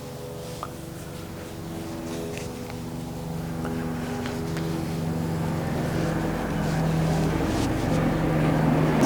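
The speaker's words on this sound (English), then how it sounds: "Hear the airplane." An airplane flies overhead past a home, a steady droning engine hum with layered tones that gradually swells louder over several seconds, heard alone without talk.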